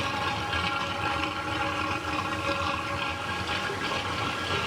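A DIY needle wheel impeller pump churns water in a sump, producing a loud, steady rushing and gurgling roar with constant mechanical hum, close and unbroken.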